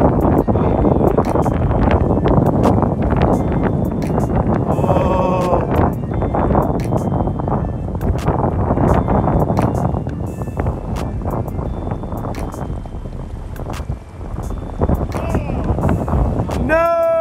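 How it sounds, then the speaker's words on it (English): Strong wind buffeting the microphone beside the South Platte River in Colorado, a loud continuous rumbling roar throughout, with faint tonal sounds and clicks beneath it. "It's windy."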